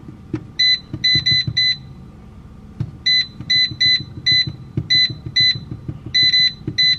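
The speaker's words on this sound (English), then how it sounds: "All right, so we're gonna preheat the air fryer." An air fryer set to preheat gives bursts of bright electronic beeps, several quick pulses at a time and repeated, close and clear over faint background clatter and low knocks, with no speech.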